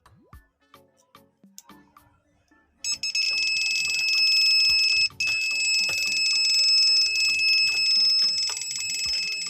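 A few faint clicks, then a continuous high-pitched alarm tone from a keyboard tester connected to an Asus laptop that won't charge sounds loudly and steadily, with one brief break.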